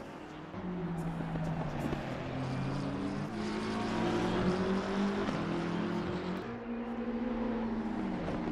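BMW M6 race car engine in a racing simulator, a steady high revving drone with rising and shifting pitch through gear changes, loud and continuous throughout.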